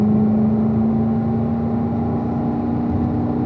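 A car engine pulls steadily under acceleration in fourth gear on a race track during a track-day session, a loud, continuous drone with a steady pitch and no voices.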